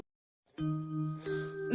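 A bright bell chime rings out after a brief silence, sustained tones holding steady, then a second strike layers on near the end.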